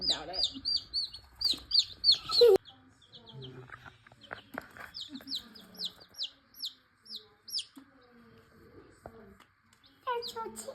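Baby chicks peep in quick, high chirping bursts close by, scattered through the scene with pauses and light handling noises between.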